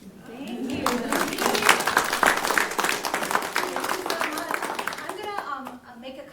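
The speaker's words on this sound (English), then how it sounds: "Let's give her another round of applause." An audience at a talk on strategies for better hearing bursts into sustained, dense applause, loud and near, swelling then tapering off, with a few voices mixed in.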